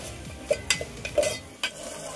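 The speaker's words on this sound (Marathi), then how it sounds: "कांदा आपल्याला व्यवस्थित भाजून घ्यायचा आहे" Onion frying in a pan for Konkan-style cashew curry, with a spatula stirring and scraping in several short, distinct strokes over a low steady sizzle, close by.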